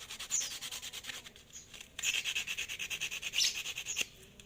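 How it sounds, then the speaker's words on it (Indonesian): Quiet, rhythmic back-and-forth rubbing of sandpaper against a spark plug from a Honda PCX scooter, scratchy strokes repeating steadily with a brief pause partway through. "Posisinya di sini kita amplas saja."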